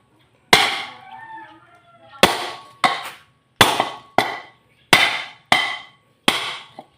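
A hammer strikes metal to knock off a stuck part, eight sharp ringing blows at uneven intervals, close and loud, with a brief murmur of voices between the first hits.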